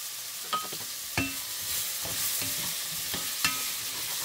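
Vegetables sautéing in a Le Creuset 3.5 sauteuse pot for a turkey soup, with a steady soft sizzle and several sharp scrapes and clinks of a stirring utensil against the pot.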